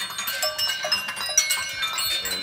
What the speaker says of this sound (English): Better ring the bell to let them know we're coming.